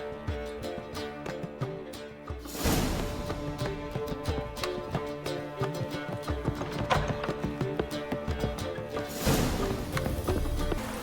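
Roach, a horse in The Witcher 3 video game, gallops with steady, rapid hoofbeats that run continuously and clearly, growing busier as it goes.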